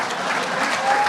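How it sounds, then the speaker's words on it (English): Brief burst of steady applause from the crowd at a high school athletic hall of fame ceremony, dense and continuous with no pauses. "Applause."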